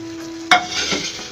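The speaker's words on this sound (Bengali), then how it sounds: "দিয়ে এটি ভালোভাবে একটু নেড়ে দেব।" Tempering spices being stirred into a bottle gourd curry in a pan: a single sharp scrape of the spoon, then a brief burst of sizzling that fades over about a second.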